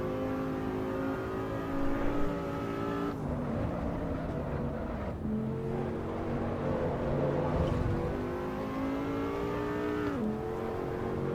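Race cars accelerating side by side in a drag race in the video game Assetto Corsa Evo, engines revving in rising tones with abrupt drops at each gear shift, loud and continuous, without speech.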